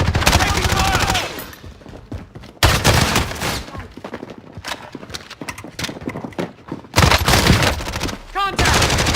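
Gunfire in Call of Duty Warzone, loud bursts of shots in dense clusters with gaps between them, some sharp and close, alongside brief voices calling out.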